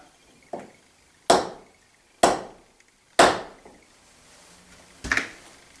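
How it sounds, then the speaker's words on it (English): Several sharp knocks from below in a reputedly haunted building in Ingleton, one soft tap then three loud separated raps about a second apart and a final double knock, each ringing briefly in a quiet room. "I keep hearing tapping coming from down there."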